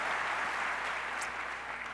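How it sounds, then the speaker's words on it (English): Audience applause at a speech to auto dealers, a steady dense wash of clapping from a crowd that holds at an even level and fades slightly toward the end, with no talking over it. "you should give yourselves a round of applause for that"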